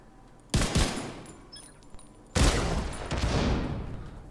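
Sustained automatic gunfire in The Division 2, two loud bursts of rapid shots, the first short and the second longer with a ringing tail.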